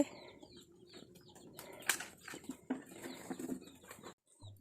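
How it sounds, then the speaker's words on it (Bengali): Chickens cluck softly nearby while scratching and pecking, with scattered rustling and a brief flutter of wings; outdoor farmyard ambience. "দেখো মুরগিগুলো সব খাবার খাচ্ছে"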